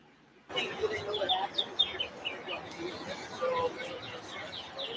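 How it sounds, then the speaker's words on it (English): Birds chirp outdoors in a steady stream of short, high calls under a background of low murmuring voices and crowd noise, moderately loud throughout. "The birds are chirping."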